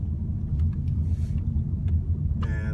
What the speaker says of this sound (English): I'm gonna turn the car around